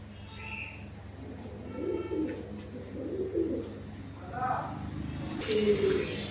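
Soft pigeon cooing comes and goes over a low steady hum, with faint chirps and distant background noise.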